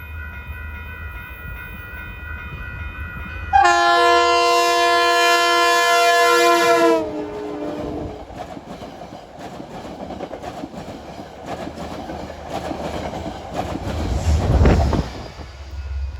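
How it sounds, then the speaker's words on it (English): A Metro-North commuter train from Poughkeepsie bound for Grand Central sounds a loud, close cab car horn chord for a few seconds, then rumbles and clatters past along the Hudson line rails. "here comes Metro North 870 from Poughkeepsie to Grand Central. It's got one of those cab car horns"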